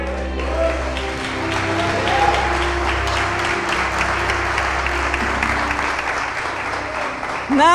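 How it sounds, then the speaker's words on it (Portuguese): A large church congregation claps in steady, dense applause for several seconds, loud and close, with a few voices mixed in. "Não, guarda as palmas"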